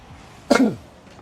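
A single short cough into a microphone, close and loud, standing out abruptly against a quiet background.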